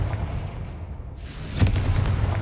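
Confringo blast spell going off in the Hogwarts Legacy video game: a low rumble, then a sudden bright burst with a booming blast and crackle near the end, fairly close.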